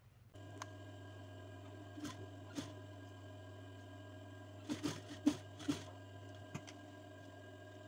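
A sewing machine stitches the remaining sides of a cushion, with a quiet, steady motor hum broken by a few soft clicks and taps of fabric handling.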